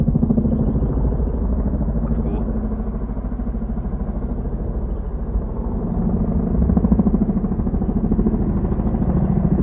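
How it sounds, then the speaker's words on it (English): Helicopters pass overhead, a loud continuous rotor-and-engine rumble that holds steady and swells slightly toward the end while a voice briefly comments. "Choppers are out."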